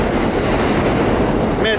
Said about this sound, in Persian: مترو داره قطار رد میشه.